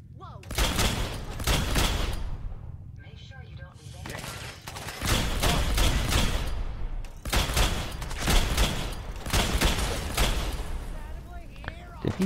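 Enemy gunfire in Fallout 4 comes in loud, dense bursts of automatic shots separated by brief pauses. A voice speaks between the volleys.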